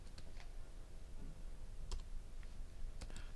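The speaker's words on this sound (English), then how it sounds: "let's quickly go and type Python manage.py run server." Keys clicking on a computer keyboard as a short terminal command is entered, a few scattered light taps with gaps between them, quiet and close, no talking.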